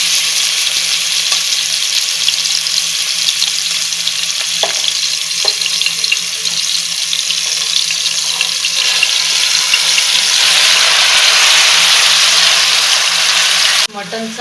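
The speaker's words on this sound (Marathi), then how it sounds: "आता याच्यात आपण हे मटण टाकून घेऊ." Mutton pieces frying in hot oil in a pan with green cardamom while cooking biryani, a steady loud sizzle running throughout, swelling briefly stronger toward the end, with a short clatter at the close.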